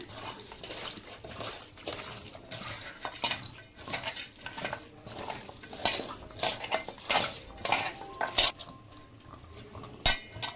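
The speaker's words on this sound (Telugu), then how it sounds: "ఇవన్నీ అయితే మంచిగా ఫస్ట్ మిక్స్ చేస్తున్నాము" Raw mutton being mixed with turmeric, salt and chili powder for a village-style curry, with irregular clinks and scrapes of a utensil against a metal dish and wet stirring, close up and bursty, with no talking.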